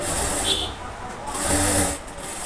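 Sewing machine stitching fabric for a child's pants, leaving a small gap for inserting elastic; steady mechanical whirring in two bursts with a brief pause between, fairly close.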